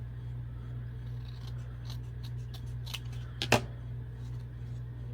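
A few quiet snips of scissors trimming the edge of a playing card for a junk journal, close up and short, ending in one sharper cut over a low background hum.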